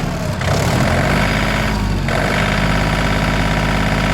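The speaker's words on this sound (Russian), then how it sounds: "Двигатель также работает ровно." Yanmar RS-24 Japanese 24-horsepower mini tractor with a rotary tiller, its engine running smoothly and steadily at close range in a continuous loud drone, with a brief shift in tone partway through as speed is raised.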